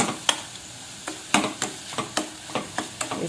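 Spoon stirring sugar into beetroot halwa in a pan, with repeated scraping strokes at a steady rhythm over a soft sizzle, close and clear with no talking.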